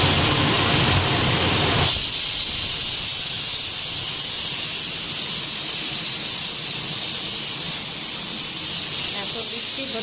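A small pressure cooker with meat inside lets off its whistle, a strong, steady hiss of escaping steam that begins after a brief moment and carries on loud and unbroken for about eight seconds.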